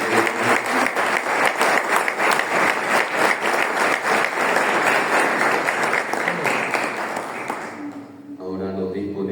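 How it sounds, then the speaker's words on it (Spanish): Loud, sustained applause from an audience at an academic inaugural lecture, continuous rapid clapping for about eight seconds before it abruptly fades, leaving a quiet room with a faint tone. "Fuerte los aplausos"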